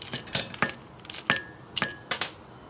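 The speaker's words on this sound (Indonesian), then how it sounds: "Kita siapkan gelas. Kita tuang es batu." Ice cubes are poured into a glass while preparing avocado iced dessert, giving several separate bright clinks and rattles at irregular intervals, close and fairly quiet.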